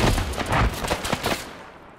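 Pistol fire in the military shooter ArmA 3: a quick burst of several loud, sharp shots in the first second, followed by a few scattered, fainter cracks that fade out.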